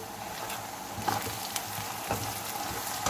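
Whole spices (cinnamon sticks, star anise, black cardamom and bay leaves) fry in hot oil in a pot for chicken pota, giving a constant close sizzle with a few faint stirring clicks and no talking.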